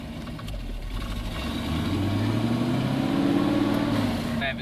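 A car fitted with exhaust cutouts that vent ahead of the mufflers, engine running with a steady low rumble that swells slightly partway through, heard on a rainy day.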